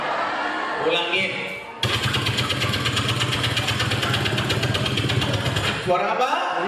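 A man imitates a helicopter with his mouth, making a sustained, loud, rhythmically chopping drone, with talk just before and after it.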